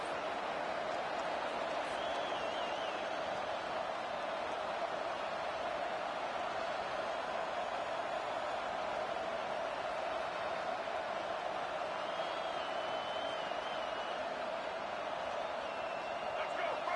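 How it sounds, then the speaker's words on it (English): Steady roar of a football stadium crowd during a game, a dense continuous wash of cheering noise that holds at an even level throughout with no pauses. "This crowd trying to make life miserable for this offense."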